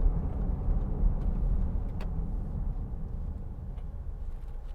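Steady road noise and low engine hum from inside a 2016 Land Rover Discovery Sport 2.0T petrol SUV driving along a road, a continuous even rumble with no talking.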